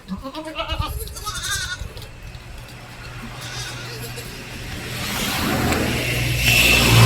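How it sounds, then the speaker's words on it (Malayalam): One of a group of six goats for sale bleats loudly and wavering at the start, then softer bleats follow as traffic noise swells steadily in the background. "6 എണ്ണം ഒരു കൂട്ടത്തെ ആടുകളാണ്"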